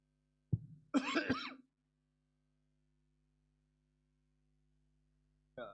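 A man coughs twice in quick succession close to the microphone, a short harsh burst followed by a rougher, throatier one. Near-silence follows, then a faint sound at the very end.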